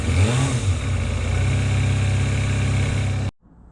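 A Kawasaki ZXR 250 motorcycle engine, running for the first time in 18 years, idles loud and close with a steady, slightly uneven burble before cutting off abruptly near the end.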